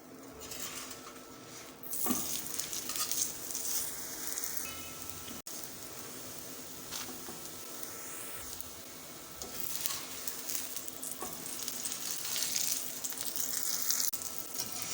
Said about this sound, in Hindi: बस थोड़े से घी में ही पराठा अच्छे तरीके से फ्राई हो जाता है।